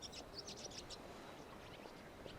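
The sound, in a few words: birds chirping in the Genshin Impact video game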